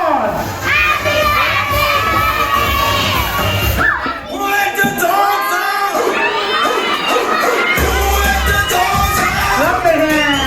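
A crowd of children shouting and cheering loudly at a first birthday party, high excited voices overlapping in sustained bursts, with a brief dip before the shouting surges again.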